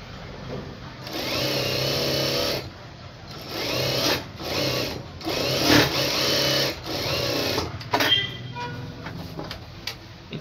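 A sewing machine stitching blouse lining with a half-inch seam, steady close mechanical whirring in several sustained runs with brief pauses between, loud and continuous.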